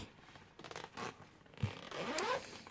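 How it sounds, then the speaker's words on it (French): A zipper is drawn open on a storage case for a gaming headset, with several short scratchy pulls followed by a longer, brighter rasp, close and fairly quiet. "la housse de rangement qui s'ouvre par une fermeture éclair"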